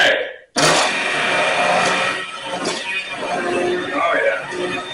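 A blender purees creamy mushroom soup, starting abruptly after a brief pause and whirring steadily and loudly up close, its pitch wavering slightly as the contents churn.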